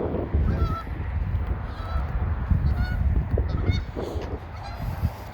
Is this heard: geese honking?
yes